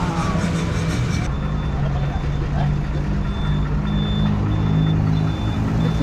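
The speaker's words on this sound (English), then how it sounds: "The 240 bus." A bus idles and rumbles close by on a Sri Lankan roadside, engine droning low and steady while a faint intermittent high beep repeats and a voice talks over it.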